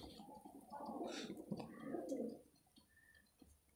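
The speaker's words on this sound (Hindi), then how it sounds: "ये पता नहीं कौन सा कबूतर आवाज़ कर रहा है, गुर गुर गुर गुर ऐसे कर रहा है" Pigeons cooing inside a pigeon room, heard as a close, throaty rolling coo for the first two seconds or so, followed by fainter calls and chirps in a quiet room.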